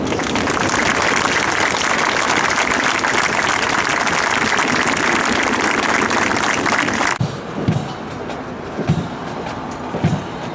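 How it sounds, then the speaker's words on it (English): Broadband applause for wounded veterans at a Marine officer commissioning ceremony, steady and loud for about seven seconds, then cutting off abruptly to quiet room noise with a few faint knocks. "So can we get a round of applause for our wounded veterans?"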